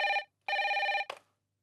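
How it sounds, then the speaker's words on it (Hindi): A telephone bell rings in two loud bursts with a short gap, then a brief third fragment cut off as the handset is picked up, in a quiet domestic room. "come on answer the phone यार"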